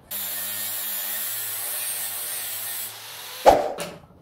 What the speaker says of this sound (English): Now what we'll need to do is dress all these down so they're flat. And there's a tool for that too. Is it the grinder? Yeah, it's the grinder.